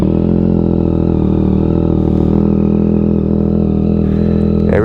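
A 2022 Yamaha XSR900 motorcycle being ridden on a misty morning, its engine droning loud and steady close by, with a rich harmonic hum and slight pitch shifts throughout.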